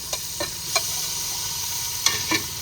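Tomatoes frying in a ground spice masala sizzle steadily in a pan, with a few sharp scrapes and taps as the mixture is stirred, heard up close with no talking.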